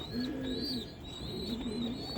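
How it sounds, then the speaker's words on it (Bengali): A pet pigeon cooing close by, repeated soft throaty coos in a steady rhythm, alone without talk. "আমার ছেলের এত পছন্দের এই কবুতর"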